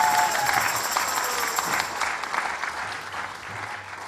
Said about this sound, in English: let's give these ladies a big round of applause for coming to this time